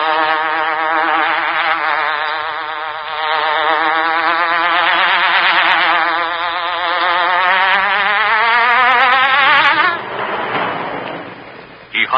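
A loud, wavering hornet buzz used as a sound effect for the Green Hornet radio show, rising and warbling continuously for about ten seconds before breaking off.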